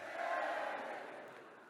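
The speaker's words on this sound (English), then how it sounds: "Give me a cheer if you've never heard of me." Audience in a live comedy forum in Westminster giving a short broad cheer, a diffuse crowd roar that swells then slowly fades, with no single voice standing out.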